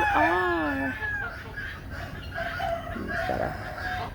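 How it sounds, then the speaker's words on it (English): A rooster with a speckled chest, striped hackles and a red shoulder patch crows loudly and close at the start, then gives softer clucks, with a person talking quietly over the morning farm sounds. "You are the most handsomest rooster, Vatch."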